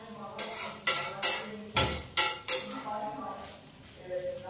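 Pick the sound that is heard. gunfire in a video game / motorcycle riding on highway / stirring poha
stirring poha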